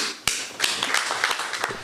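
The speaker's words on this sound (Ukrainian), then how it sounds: "Я вам аплодую." Applause from around 400 forestry enterprise workers at a Forestry Workers' Day gathering in Korostyshiv: a dense burst of many hands clapping, starting abruptly and continuing steadily and fairly close.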